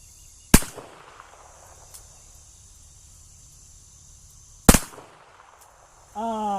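Two sharp, loud revolver gunshots crack at a shooting range about four seconds apart, each leaving a brief echoing tail, before a voice begins at the end.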